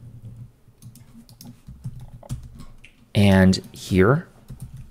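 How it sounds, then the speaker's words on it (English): Fingers type steadily on a computer keyboard while someone writes Flutter app code, a quiet stream of uneven clicks. Someone speaks briefly and loudly near the end. "I should type everything if I can."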